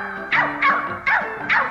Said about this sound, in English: My dog, Fido